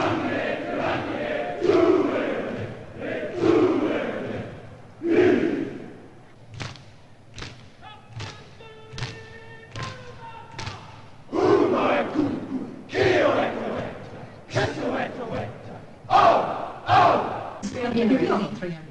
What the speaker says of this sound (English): I was there cheering our gang along at the swimming competitions